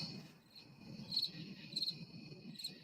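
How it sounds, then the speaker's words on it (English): Crickets chirp in a steady, high pulsing trill with brief louder bursts, faint and fairly distant over a soft low rumble. "we got crickets, man"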